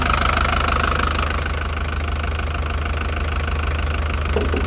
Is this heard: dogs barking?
no